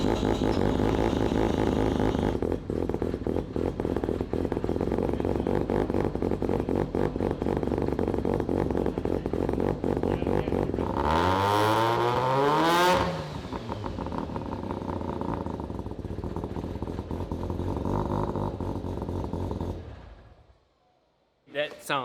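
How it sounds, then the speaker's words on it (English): A rotary-engined Corvette with a new exhaust, loud and close indoors, its raspy drone holding steady, then a sharp rev that climbs and falls before settling to idle and cutting off. "So we're gonna go ahead and fire it up in here."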